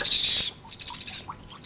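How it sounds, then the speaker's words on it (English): An owl gives a harsh, rasping shriek at a moderate distance, followed by faint scattered chirps and squawks in a quiet night scene from a 1983 television staging of Macbeth. "It was the owl that shrieked."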